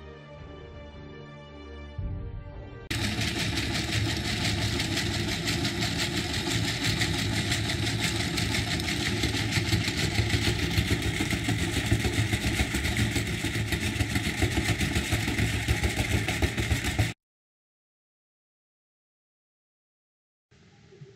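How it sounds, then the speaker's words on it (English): A small electric motor, the kind fitted to a formerly hand-cranked device, starts and then runs with a steady, loud buzzing whir for about fourteen seconds before cutting off abruptly into silence. "Here's the exact same motor that my friend used."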